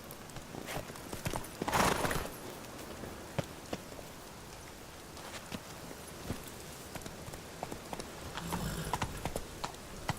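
A horse's hooves clip-clop at a walking pace while being ridden in The Witcher 3, soft steady footfalls with occasional louder thuds and faint ambient rain-like hiss behind.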